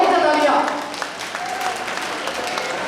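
Audience applause at a Ramlila stage performance by the Shri Ramayan Pathak Sabha: a crowd claps steadily for about three seconds, loudest at the start and easing slightly, with voices mixed into the clapping.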